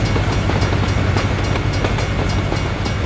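A train in American Truck Simulator rolls past close by, a loud, steady rumble with rhythmic clickety-clack of wheels over rail joints throughout, no voices.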